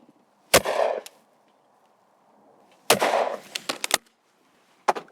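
A Browning B525 over-and-under shotgun fires at clay targets outdoors: two loud, close blasts about two seconds apart, each with a rolling tail, followed by a quick run of sharp mechanical clicks and another short crack.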